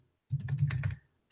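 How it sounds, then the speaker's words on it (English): Rapid typing on a computer keyboard, a dense run of close clicks lasting under a second, then a single fresh keystroke after a short pause. "I will type it out for you in the chat"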